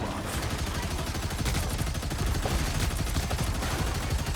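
Rapid, sustained automatic gunfire from Punisher's deployed turret in the shooter game Marvel Rivals, a dense continuous rattle with steady loudness throughout, no voices over it.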